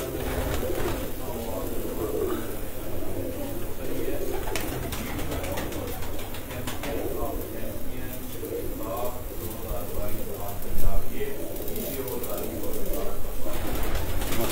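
Breeder pigeons coo steadily on a rooftop, a dense flock of soft, continuous calls close by for the whole stretch.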